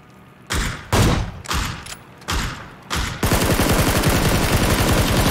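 Gunfire in the PUBG game rings out as several loud, spaced bursts, then becomes a continuous rapid automatic stream to the end.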